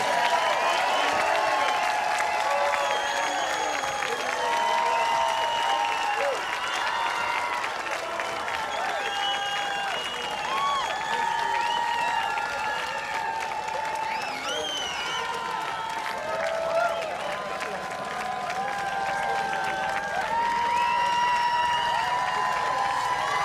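A concert audience at a Summer Breeze show applauds and cheers steadily, with whoops rising from a dense crowd for the whole stretch, calling for an encore.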